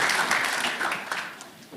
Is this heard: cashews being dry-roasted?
no